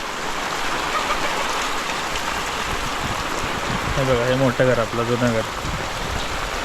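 Heavy rain pours down on a Konkan village in a dense, steady hiss, while a person speaks briefly over it near the end.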